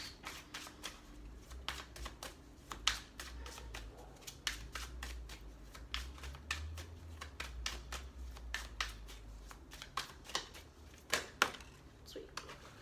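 Tarot cards being shuffled and drawn during a love reading, a dense run of quick papery riffles and snaps continuing through the whole stretch, close and fairly soft, with low murmuring in the background.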